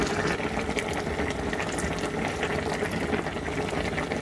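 A pot of vegetable salad being cooked for canning bubbles at a steady rolling boil, a dense continuous wash of bubbling and hiss with no voices.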